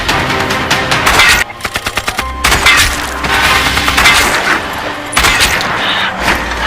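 Sniper and rifle fire in a Japanese-soldier war film scene: loud, dense bursts of gunshots and rapid cracking volleys, with a sharp run of evenly spaced shots in the middle, set against a busy cinematic mix with no speech.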